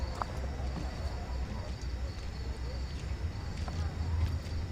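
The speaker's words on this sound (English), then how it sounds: "The sound of horses." Horses' hooves clip-clop in the stealth video game Thief, a soft, irregular stream of clopping beneath a steady low ambient rumble, with faint distant taps and no clear nearby voices.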